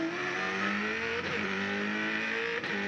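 A V8 touring car engine screams at high revs during the 2001 Shell Championship Series race at Canberra, a loud sustained whine with two quick dips for gear shifts, heard close from onboard.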